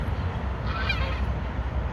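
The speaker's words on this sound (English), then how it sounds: "there's a light colored tan duck out there." A single honking quack from a duck outdoors, one short nasal call in the middle over steady low background rumble, fairly clear and nearby.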